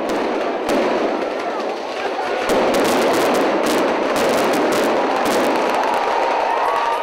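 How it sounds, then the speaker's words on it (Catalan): A rapid barrage of festival firecrackers at a tronada bursts continuously, sharp cracks piling into a dense roar that grows more intense, with crowd noise beneath. "el ritme de l'esclat de trons"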